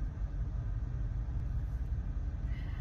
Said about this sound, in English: I'm driving a fucking Tesla.